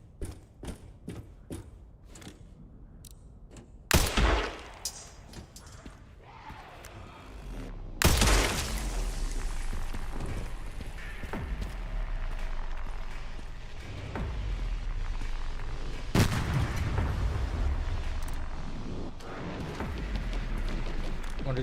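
Gunfire in the video game Resident Evil 9: sharp, heavy shots and booming blasts, a few rapid bursts early then large impacts around four and eight seconds, over a sustained rumbling game backdrop.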